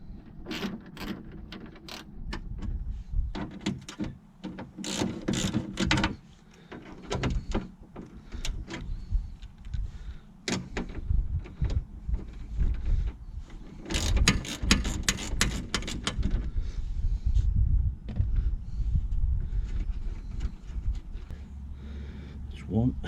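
A ratchet undoes the 10mm bolts on a Triumph TR7 V8's window regulator, with repeated clicking bursts up close mixed with clunks and handling noises inside the door.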